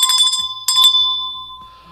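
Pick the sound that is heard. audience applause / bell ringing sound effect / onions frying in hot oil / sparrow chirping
bell ringing sound effect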